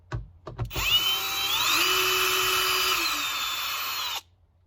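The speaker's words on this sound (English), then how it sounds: "we're just going to use our drill to pull those out" A few knocks, then a cordless drill runs for about three seconds, its whine shifting as a 5/16-inch sun visor bolt on a 2011 Jeep Grand Cherokee loosens, before cutting off abruptly.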